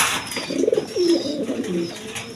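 Close pigeons of a fine breed give soft, throaty coos in a few repeated phrases, steady and unhurried, with no talking.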